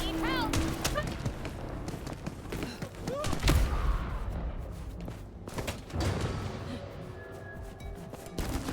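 Shotgun blasts and gunfire in Vampire: The Masquerade - Bloodlines 2, landing as loud, sharp bursts and heavy thuds scattered through a chaotic fight, with a voice talking over parts of it.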